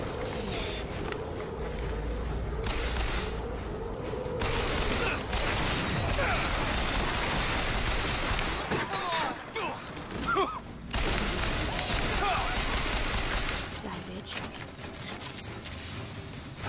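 Gunfire in BioShock Infinite, scattered shots and bursts mixed into a dense, loud battle din of mechanisms and thumps, with people talking over it.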